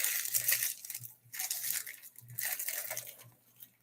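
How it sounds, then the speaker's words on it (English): A thick sealed plastic bag is torn open by hand, giving irregular bursts of crinkling and ripping with short pauses between pulls. It is quiet and close. "And it doesn't help that I'm actually trying to tear it in multiple places"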